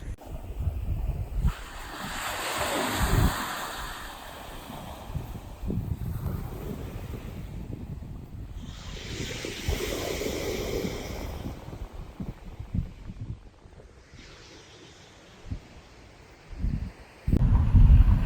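Ocean waves on the coast near Cassis and Marseille, France, with broad surf washes rising and falling over steady wind noise, and a louder gust or wash at the end.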